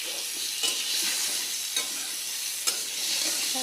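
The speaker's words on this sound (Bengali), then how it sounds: "ফার্স্টে এই একটু লবণ আর একটু হলুদ দিয়ে নেড়ে চেড়ে নিয়ে নেবো আলুটা।" Potatoes fried with salt and turmeric hiss steadily in hot oil, while a spatula stirs them with a few sharp clinks and scrapes against the pan, all close and unbroken by speech.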